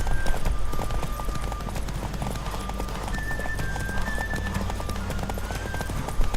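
Horse hooves clip-clop in a quick galloping rhythm during a horse race in The Witcher 3, loud and steady throughout, with a whinny and game sounds layered on top.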